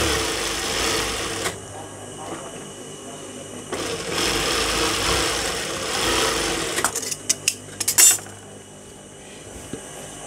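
Sewing machine running steadily as it stitches the waist seam of a petticoat, a continuous close whir with a break partway through, then a few sharp clicks and taps near the end.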